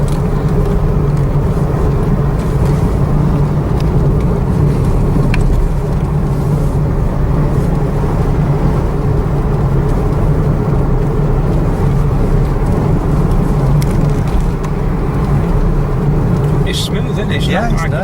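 Steady low engine drone and road rumble inside a moving 1998 Ford Fiesta with a manual gearbox and 1.2 16-valve engine, constant and fairly loud throughout, with people talking over it.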